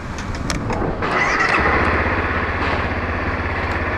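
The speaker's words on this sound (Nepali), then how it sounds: "यसरी चलाइछ नि आज बाइक" A motorcycle fitted with a new clutch lever, its engine idling nearby with a steady low throb after a few brief knocks and revs at the start.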